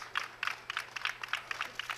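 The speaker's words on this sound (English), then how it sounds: "Nice round of applause for this huge class." Light, scattered clapping from a small audience at a dog show, greeting a large class of dogs, with steady rhythmic claps and no voices.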